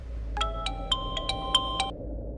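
A phone ringtone plays a quick, bright electronic melody of about six chiming notes in a short burst, close and clear over a quiet indoor background.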